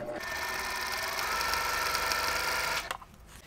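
A sewing machine chain-pieces units for a sawtooth star quilt block, a close, steady rapid whir of stitching for nearly three seconds that stops abruptly, followed by near silence.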